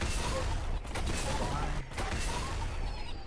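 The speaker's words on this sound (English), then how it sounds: "Grenade launcher." Grenade launcher fire in the Fortnite video game, heard as a dense, loud, continuous barrage of blasts and gunfire that carries through the whole stretch with only brief dips.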